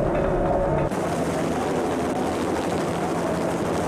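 Helicopter in the game Max Payne, a steady, fairly quiet rotor and engine drone that runs through the whole stretch without talk.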